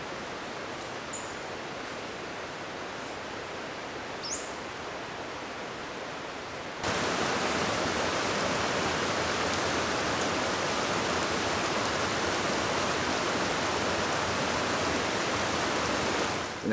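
Middle Fork Applegate Creek flowing, a steady broadband rush of water that jumps noticeably louder partway through, as if moving closer to the current, with no talk.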